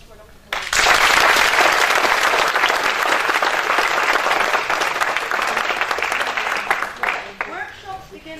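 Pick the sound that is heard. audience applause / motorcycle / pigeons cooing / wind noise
audience applause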